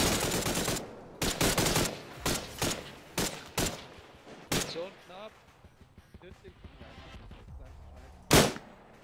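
Rapid bursts of ArmA 3 gunfire, several volleys in quick succession followed by quieter stretches and one last loud shot.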